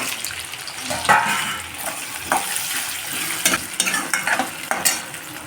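Potatoes tossed into hot oil with chilli and curry leaves, sizzling steadily in a pan while a spoon stirs and scrapes, giving several sharp clattering strokes over the frying hiss.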